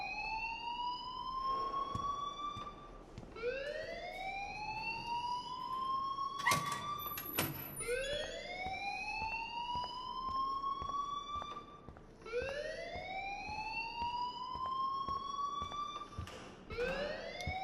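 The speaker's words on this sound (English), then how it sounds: "please turn off that alarm since that's your job" An alarm in the Life Is Strange video game wails in long rising sweeps, each repeating every few seconds, loud and continuous, with a couple of sharp knocks partway through.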